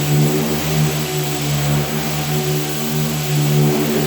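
A power sander fitted with 80 grit sandpaper runs in a loud, close, steady whirring hum with a constant pitch throughout.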